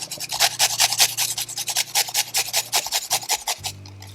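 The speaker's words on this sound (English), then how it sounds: "So I'll grate in the garlic." Fresh garlic cloves grated by hand on a kitchen grater, a close rapid series of rasping back-and-forth scrapes in a steady rhythm, with no talk.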